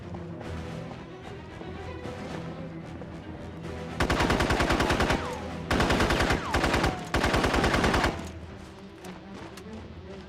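Machine gun fire in the SOCOM U.S. Navy SEALs 3 video game: loud, rapid sustained bursts of automatic shots in three long strings over steady background game ambience.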